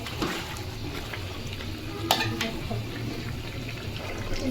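Duck meat is stirred in a pot during Bengali home cooking, after ten minutes of braising with spices. There is a steady low sizzle with soft scraping and stirring noises throughout, and one brighter clink near the middle.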